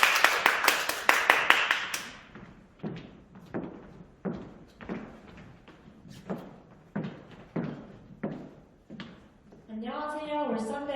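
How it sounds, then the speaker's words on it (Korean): Scattered applause in a university hall at a student report event: a burst of clapping at first, thinning into individual separate claps, followed by a person beginning to speak. "박수로 맞이해주세요."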